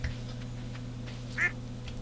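A single short quack from a duck in the video game Stardew Valley, fairly faint over a low steady background hum, with no one talking.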